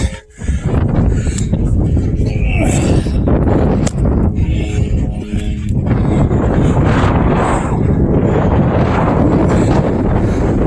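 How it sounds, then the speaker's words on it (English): Heavy wind buffets a camera microphone on a hike up Cole Canyon, producing a loud, rumbling roar that surges and dips continuously throughout. "I don't know if you can hear the wind on the camera. Nice and windy up here."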